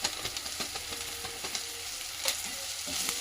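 Spices for palak paneer sauté in a pan with a steady, faint sizzle and occasional soft stirring scrapes, continuous and close with no voices.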